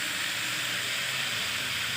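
Masala paste of turmeric, coriander powder, salt and green chili frying for bhindi chicken, a steady loud sizzling hiss throughout with no talking.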